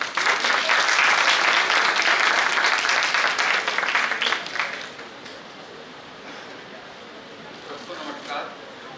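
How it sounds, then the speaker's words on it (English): A seminar audience gives loud, dense applause for a guest speaker for about four seconds, then it fades to scattered claps and room murmur. "Please welcome him with a great round of applause"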